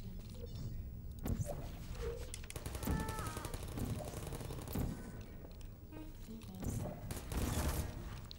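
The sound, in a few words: Portal turret gunfire, video game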